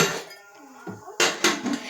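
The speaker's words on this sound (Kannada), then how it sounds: "ಈಗ ನಾನು ಕುಕ್ಕರ್ ಹಾಕ್ತಿದ್ದೀನಿ" A pressure cooker set down on a stove while making jeera rice, heard as a few close metallic clanks and knocks of the pot against the burner, with quiet gaps between.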